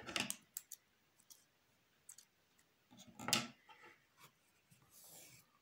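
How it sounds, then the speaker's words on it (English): Scissors snipping yarn after crocheting, a few quick close clicks and snips scattered among faint handling rustles, with a louder cluster of cuts near the middle. "And cut your yarn."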